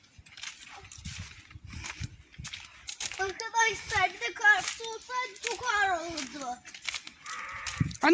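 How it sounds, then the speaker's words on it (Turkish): Several sheep bleat loudly in wavering calls while someone talks nearby. "Koyunlarımız bağırıyor."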